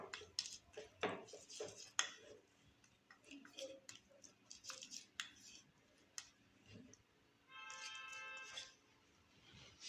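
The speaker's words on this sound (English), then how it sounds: "Just add half teaspoon of olive oil and mix it very well." A spoon stirs half a teaspoon of olive oil into a home skin-tag remedy, giving quick irregular clinks and scrapes against a small dish or bowl, close-up, with a steadier scraping run near the end.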